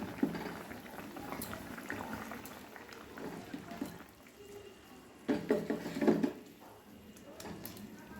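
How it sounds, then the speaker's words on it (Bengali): Rohu fish curry with potatoes, cauliflower and other winter vegetables bubbling in a pot, a steady low simmer of boiling liquid that swells into a louder burst of bubbling near the end. "এবারে মাছগুলো আমি দিয়ে দিলাম।"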